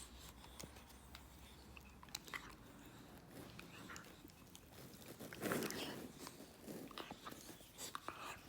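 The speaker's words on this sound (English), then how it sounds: "Of all the things you can chew, you chew your own foot." A puppy gnaws at its own foot, giving soft, irregular biting and chewing sounds, faint and close, with occasional small crunches and shuffles in a quiet room.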